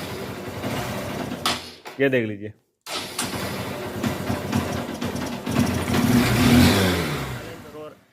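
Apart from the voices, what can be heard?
Honda CB Shine motorcycle engine revving and stalling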